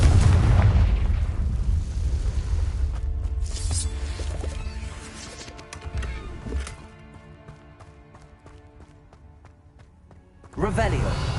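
Hogwarts Legacy video game with the Confringo fire spell: a loud, rumbling blast opens and decays over several seconds, dull thuds follow with musical tones, and a second burst comes at the end under game sounds.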